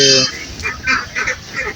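Ducks on a duck farm give a string of nasal, honking quacks, several quick calls in uneven bursts close by, after a brief steady tone at the start.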